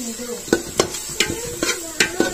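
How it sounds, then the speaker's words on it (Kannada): Ground ginger-garlic paste goes into onions and curry leaves frying in a pan, bringing a low sizzle broken by six or so sharp, evenly spaced clicks of a spoon striking the pan's rim or side. "ಈರುಳ್ಳಿ ಫ್ರೈ ಆದ್ಮೇಲೆ ಶುಂಠಿ ಬೆಳ್ಳುಳ್ಳಿ ಅದು ರುಬ್ಕೊಂಡಿದ್ವಲ್ಲ ತರ್ತರಿಯಾಗಿ, ಅದನ್ನ ಹಾಕೊಂಡೆ"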